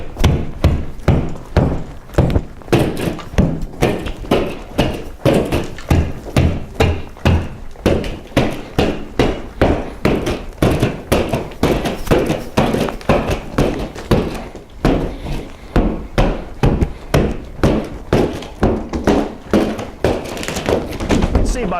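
A tool punches rapid stitch cuts through a drywall ceiling, producing a long run of dense, repeated thuds and cracks, loud and close, with a voice talking over them.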